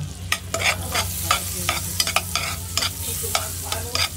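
Homemade gravy stirred and thickening in a pan, with repeated scraping strokes of a utensil over a soft low simmer, close and steady, with no talking.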